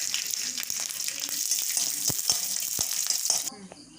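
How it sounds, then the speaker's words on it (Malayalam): Mustard seeds, curry leaves and chili frying in hot oil for a curry, a close crackling sizzle with sharp popping bursts that cuts off near the end. "കടുകിട്ടു കരിയാപ്പില മുളക്"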